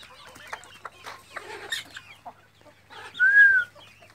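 Desi chickens cluck and murmur close by in short irregular bursts while drinking water, followed by one clear, drawn-out higher call near the end.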